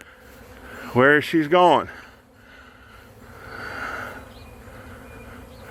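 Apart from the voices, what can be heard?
honey bee swarm buzzing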